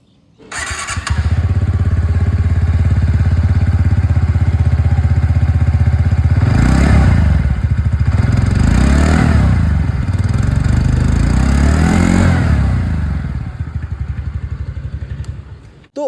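A TVS Ntorq 125 Race XP scooter, 2024 Black Edition, starts and idles with a loud, steady exhaust note up close, blipped with a few throttle revs midway before settling back.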